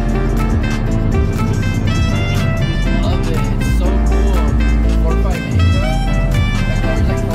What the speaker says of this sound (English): Chris punching it.